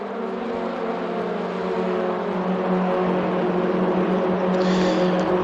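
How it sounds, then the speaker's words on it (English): Racing car engines droning during an F4 and touring car championship race, a sustained loud tonal roar with steady harmonics that rises slightly in pitch, no talk. "My God, the engines sound incredible."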